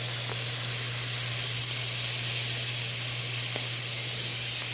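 Smoked herring frying in extra virgin olive oil in a pan, a steady close sizzle and hiss that holds continuously without any talk.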